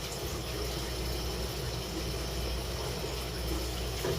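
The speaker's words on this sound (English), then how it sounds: "I'm over at the sink right now just rinsing my chicken." Tap water runs steadily into a kitchen sink as raw chicken breast is rinsed under it, a constant close hiss and splash with no talking.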